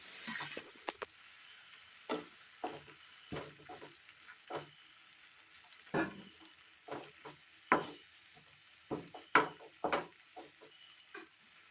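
A spoon stirs meat curry in a pan after hot water goes in, giving irregular close scrapes and wet clacks separated by brief pauses, with a faint simmer underneath.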